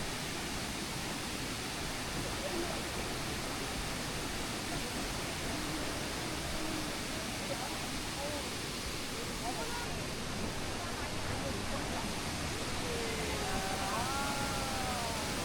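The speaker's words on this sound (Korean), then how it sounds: "움푹 패인 지형 속에 폭포물이 쏟아져 옥빛 무릉덩이를 이루고 있고 시원한 물줄기 소리가 청량하게 들려옵니다" Bidulginang waterfall pours into a jade-green pool in a deep, hollow rock basin, making a steady, full rushing roar that fills the whole scene without a break.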